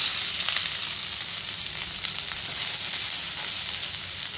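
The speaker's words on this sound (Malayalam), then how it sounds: "മൂത്ത് അതിലേക്ക് സവാള ഇടാം." Onion sizzling in hot coconut oil with cinnamon and fennel for an egg curry, a steady dense frying hiss that holds evenly throughout with no talk.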